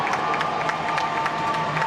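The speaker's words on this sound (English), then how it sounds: "That's the entrance of the local team, Hong Kong, China. Everyone applauding" At an ice hockey rink, a crowd cheers and claps steadily and loudly as the Hong Kong, China team enters, with scattered whoops rising above the crowd noise.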